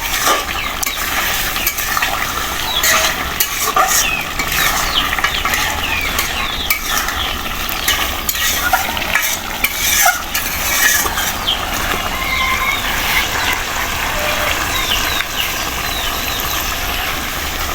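Duck meat being stirred and fried in its own fat in a pan near the end of cooking, a continuous loud sizzle with scraping stir strokes throughout.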